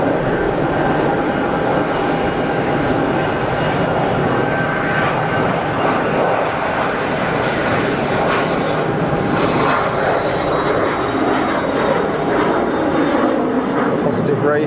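A jet airliner takes off at Geneva Airport with a loud, steady engine roar and a high whine that runs on throughout, close and powerful, with people talking beneath it.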